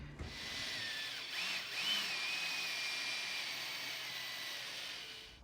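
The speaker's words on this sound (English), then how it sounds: "All right, we should be able to get the screws in those holes." Power drill driving screws into hinge holes for a shower door in a seaside ranch house, a muffled continuous whir lasting several seconds, rising slightly in pitch before easing off.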